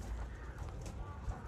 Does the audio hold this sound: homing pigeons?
yes